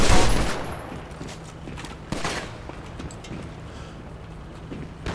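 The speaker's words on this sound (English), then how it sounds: "How the hell much do I have to shoot him?" Gunshots in GTA 5 Online, a loud opening burst followed by scattered sharp shots and a dense background of game sound.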